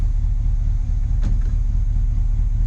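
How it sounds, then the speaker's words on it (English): The engine of a 1971 Chevy idles with a loud, steady, close low rumble as the transmission is shifted through its gears, with one brief clunk partway through and no talking. "I'm gonna go through the gears"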